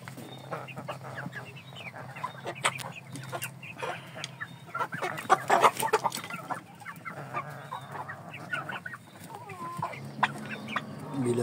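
Turkeys and chickens cluck and squawk in a busy flock, overlapping calls rising and falling, with occasional honking-like cries nearby.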